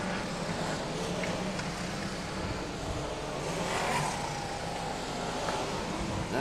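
BriSCA Formula 1 stock cars roar around the track at the start of a race, a dense continuous wash of engine noise heard from a distance with no clear individual pass-bys.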